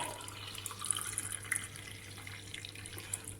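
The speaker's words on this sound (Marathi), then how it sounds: "मी हे टाकून घेते आता ग्लासमध्ये" Fresh juice pours in a soft, continuous trickle into a glass mug with a handle, quiet and close, with a few faint clinks.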